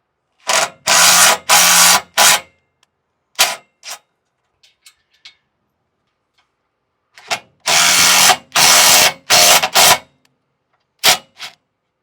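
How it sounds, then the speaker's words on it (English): A rivet nut tool driven by a power tool installs rivet nuts into the roll cage of a Can-Am Defender HD10, heard as loud, close bursts of whirring separated by short silences, with faint clicks in between. "we can now use the rib nut tool to install the rib nuts into the roll cage"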